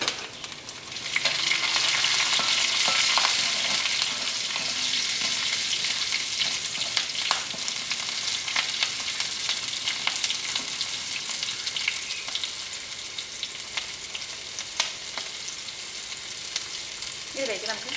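Garlic, black pepper and green chili fry in a pan for rasam, giving a steady bright sizzle with crackling pops and occasional stirring scrapes throughout.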